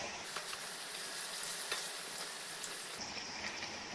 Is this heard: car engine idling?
no